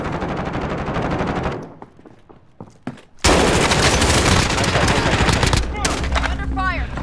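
Heavy gunfire rattles through a video game firefight, with dense rapid bursts breaking out loud and close after a quieter stretch of scattered single shots, and voices faintly mixed in.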